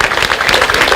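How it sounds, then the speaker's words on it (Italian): An audience in a small Italian town square applauds, a loud, steady patter of many hands clapping together with no pauses. "Io vorrei adesso un applauso per queste persone qua"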